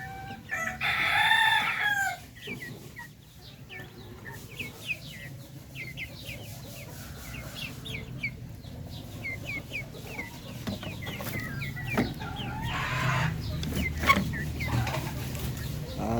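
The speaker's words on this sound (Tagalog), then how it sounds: "yung mga sisiw natin dito ayan ah" Chickens and small chicks kept indoors out of stormy rain cluck and cheep steadily, with a rooster crowing near the start and occasional heavier clucks over a constant low background rumble.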